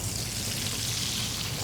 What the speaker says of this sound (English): Potatoes now, they're going to sizzle, they're going to start to shallow fry as we go in.